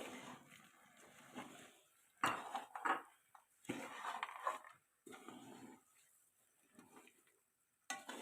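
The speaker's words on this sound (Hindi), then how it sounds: "किशमिश और छुहारे। अब इनको भी मिक्स कर लें।" A spoon stirs raisins and dried dates with coconut in a metal pot of panjeeri, giving soft scraping and a few sharp clinks against the pot, quiet and close with pauses in between.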